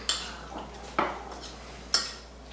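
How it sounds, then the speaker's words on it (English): Seasoning is mixed into ingredients in a bowl or pan: three separate clinks and scrapes of a utensil, close and moderately loud, spaced about a second apart, with quiet between and no talk. "I'm just going to mix these in just a little bit first, just so that we got everything partially incorporated"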